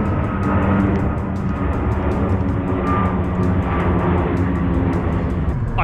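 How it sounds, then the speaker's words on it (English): Aircraft pass overhead beside a carp fishing spot, their engines giving a steady, loud broadband roar, with faint rhythmic ticking running through the sound. "flying planes."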